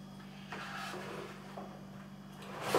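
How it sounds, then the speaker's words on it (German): Door of a WEMO 76F 12V compressor fridge, a built-in unit without freezer compartment with an external cooling unit, swinging open: a soft swoosh and rustle over a steady low hum, ending in a louder scrape. "Und so geht der Schrank in die Richtung auf."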